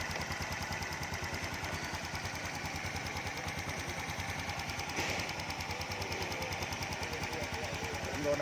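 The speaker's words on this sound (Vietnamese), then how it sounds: "anh em nghe tiếng máy đây anh em" A 2009 Honda Future Neo FI fuel-injected motorbike idles with an even, rapid putter of exhaust pulses, close and steady throughout, with no talking over it.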